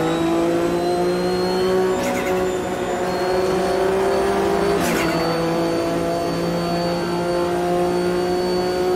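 Porsche race car in the racing game AMS 2, a sustained high engine drone holding nearly steady pitch with other cars' engines layered beneath and brief whooshes of cars passing by.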